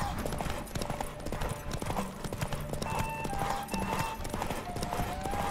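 Roach, Geralt of Rivia's horse in The Witcher 3, gallops in a derby race, loud rapid hoofbeats pounding steadily with a brief whinny, mixed with game music and background voices.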